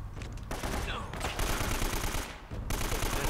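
A gun in the Uncharted: Drake's Fortune video game empties its magazine in a dense, loud stream of rapid automatic shots that runs almost without pause.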